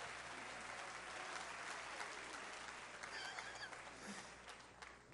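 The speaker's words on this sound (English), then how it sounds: "give all 6 of these folks a big round of applause for coming up here" A cruise-ship audience at a love and marriage game show applauds contestants on stage, a dense, continuous clapping heard from a distance that tapers slightly toward the end.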